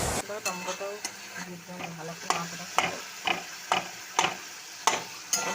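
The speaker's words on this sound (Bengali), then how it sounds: "দিয়ে মটরটা ভালো করে কষাচ্ছি" Peas fry with spices in a pan along with turmeric, salt and tomato. A steady sizzle runs throughout, and a utensil stirring and scraping the pan makes regular close knocks. Faint talk sits in the background.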